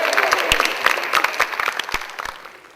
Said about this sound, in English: Give him a big round of applause as he comes up here on stage